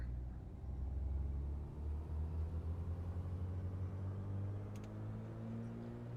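The twin engines of a Black Square Baron in a flight simulator run up to full throttle, a deep, steady rumbling drone that swells and holds loud throughout, with no talk.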